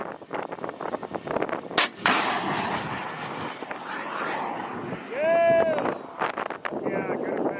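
A 30mm anti-drone weapon firing outdoors, with sharp reports and rumbling blasts amid wind noise, mixed with voices talking over it.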